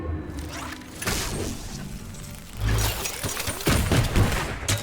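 Dense, continuous gunfire and explosions from a Fortnite match with a primal rifle, a busy wall of rapid shots and booms lasting several seconds with no pauses.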